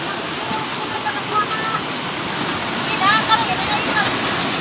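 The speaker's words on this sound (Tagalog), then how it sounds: "Grabe, ang baha." Floodwater rushes in a steady, dense roar during Typhoon Crising in Guinobatan, Albay, continuous and close throughout, with faint voices briefly audible over it.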